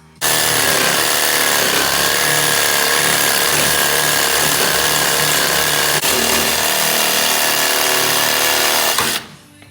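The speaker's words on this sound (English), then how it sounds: "Oh, I need the sawzall." A Sawzall reciprocating saw cuts through the hollow axle of a Honda HT3813 lawn mower next to a rubber bushing. The cut is loud, close and continuous, with rough metal grinding for about nine seconds before it stops abruptly.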